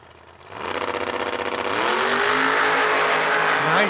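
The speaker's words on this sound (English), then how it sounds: "Pro Charge Camaro. Mike Richardson in the Nitrous S10 here in the left." At the drag strip start line, a Pro Charge Camaro and a Nitrous S10 drag race car launch from a near-silent moment into a loud, pulsing engine roar that swells into a sustained high-revving scream as they accelerate away.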